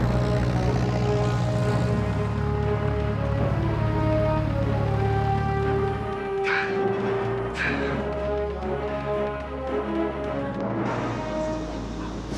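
A Cessna light airplane flies with a steady, loud propeller engine drone that holds throughout, with a shift in pitch partway through and brief higher sounds over it.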